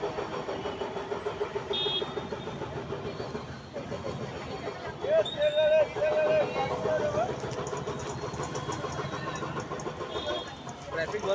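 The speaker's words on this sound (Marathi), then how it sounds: "ट्रॅफिक भरपूर आहे भावने इकडे." Busy road traffic near Pune, with car engines running and idling close by, a vehicle revving and a horn-like tone midway, while people talk over it.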